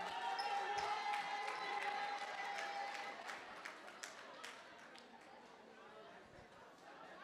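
Guests at a wedding reception give a big round of applause, a steady broadband patter of many hands with chatter mixed in, gradually thinning and quieting over several seconds.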